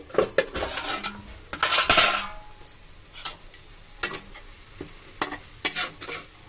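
A spoon stirs cabbage roti pachadi in a metal pan, with irregular scraping and clinking strokes close up over a faint sizzle, some strokes louder than others.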